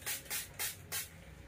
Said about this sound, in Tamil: Water spray.